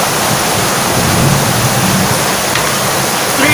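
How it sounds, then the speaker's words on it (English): Nohkalikai Waterfall in Meghalaya, India, a 340-metre plunge fall, thunders as a dense, unbroken roar close at hand, with no voices over it. "It's Nokalikai Waterfall."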